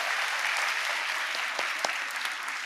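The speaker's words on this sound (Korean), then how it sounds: "네, 박수합시다." Church audience at a festival service applauding, a dense patter of clapping that holds steady, then thins with a few louder individual claps near the end.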